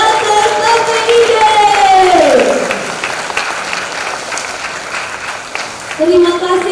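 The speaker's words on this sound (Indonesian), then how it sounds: "Sekali lagi beri tepuk tangan yang meriah untuk Teater KPID" An audience applauds a theatre group after its performance, crowd clapping spread through the room while a voice speaks loudly over the start and end.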